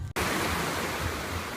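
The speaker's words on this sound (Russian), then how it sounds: "вот наше море" Sea waves wash onto the seashore at night, a loud, continuous broadband roar of surf that starts abruptly after a brief cut and carries on steadily with no talk.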